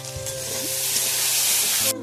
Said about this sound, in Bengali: এই বটবটি ভাজা করছি